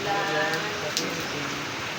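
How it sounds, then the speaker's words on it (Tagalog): Steady rain falling outdoors on Christmas in the Philippines, a dense continuous patter filling the short stretch at moderate level, with faint voices mixed in underneath. "Ulan pa din sa Philippines."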